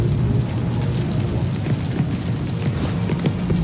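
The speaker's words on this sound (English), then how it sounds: "The rain's getting heavier." Heavy video game rain pours as a dense, steady, loud wash with low rumbling underneath, continuous and unbroken throughout.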